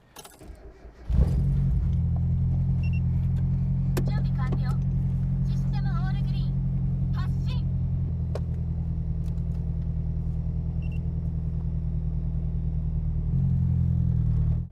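A Mazda Miata MX-5 on newly installed Meister R Club Race coilovers drives over a bumpy street, giving a steady loud low rumble of engine and road noise with faint rattles and clinks above it for most of the clip.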